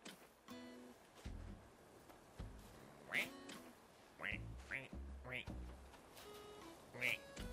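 Duck quacks from the Animal Crossing New Horizons video game, several short nasal calls spread through the clip, sitting over soft game background sounds.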